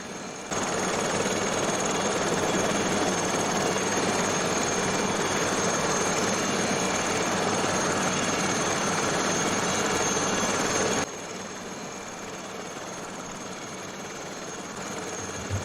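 A LAMA SA315B helicopter in Microsoft Flight Simulator 2020 flies over a snowy landscape while its turbine whines and its rotor drones steadily and loudly, then the level drops slightly partway through and the drone continues.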